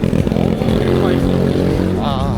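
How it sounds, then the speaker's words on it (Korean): A motorcycle passes close by on a road near Ochang, Cheongju, its mid-pitched engine revving loudly and steadily for a couple of seconds before fading slightly. "저 오토바이 소리 듣기가 제일 싫습니다"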